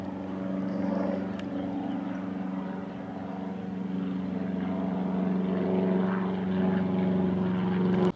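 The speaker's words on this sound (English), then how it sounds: "a noisy aircraft entering the" A noisy propeller aircraft drones steadily overhead above a countryside valley, a continuous engine hum holding level and fairly loud for the whole stretch with faint outdoor ambience beneath.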